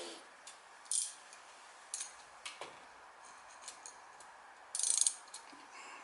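A hand ratchet clicks while turning tight 10mm bolts on the rear brake pipe of a Mercedes W211, with sparse metallic ratcheting bursts and small clinks spread over several seconds, close and with no talking.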